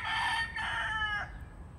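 A rooster that lives in the wild crows once nearby, a loud, clear call that wavers through a few rising and falling notes over a low background rumble.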